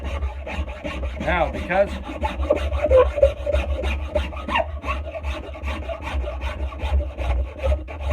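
A Nicholson file rasps back and forth over a wooden axe handle, smoothing a transition in a steady run of close, scratchy strokes with only a brief spoken word.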